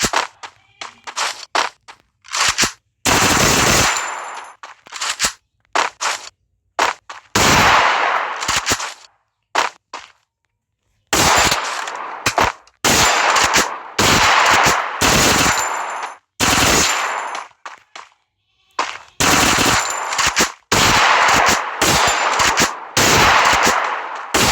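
Loud rapid bursts of automatic gunfire from a mobile shooting game played on a Samsung Galaxy M21, with volleys separated by short silences and one longer pause partway through.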